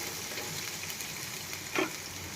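Spiny gourd (kantola) frying with onions in a pan over low heat gives a steady, soft sizzle throughout, with one brief louder crackle near the end and no talking.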